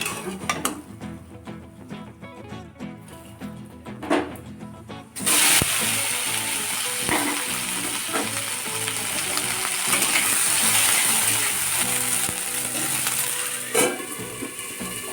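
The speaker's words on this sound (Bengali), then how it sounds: "আর ঢ্যাঁড়স ভাজব" Okra frying in a pan. A few utensil clinks and light stirring come first, then a loud, dense, steady sizzle takes over and keeps going, broken by occasional scrapes.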